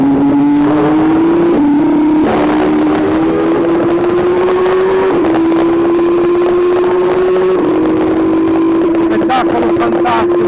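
Race cars at the Le Mans 24 Hours, including a Toyota, pass close by. A loud, sustained engine whine climbs steadily in pitch, broken by brief shifts and dips, and it stays close and dominant the whole time.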